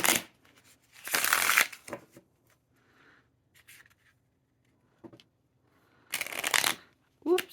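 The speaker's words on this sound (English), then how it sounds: "this is where I will shuffle the rest of the minors" A deck of tarot cards is shuffled by hand in two crisp riffling bursts with a long pause between them, close and clear, with a few soft rubs and taps in the quiet gap.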